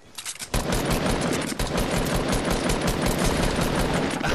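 Sustained automatic gunfire in a Fortnite match, dense and loud, starting abruptly after a half-second lull and rattling continuously to the end with one brief dip.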